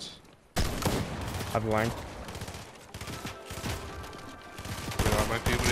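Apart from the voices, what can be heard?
gunfire from a video game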